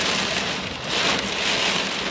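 Steady rain pours down in a dense, continuous hiss, falling close by and fairly loud throughout, with no voices or other sounds.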